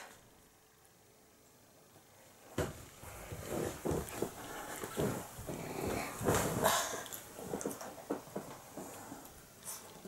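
A small pet dog named Minus, being put through tricks by its owner, makes soft whimpering and yipping sounds in short irregular bursts close by, rising after a quiet start, with no talking.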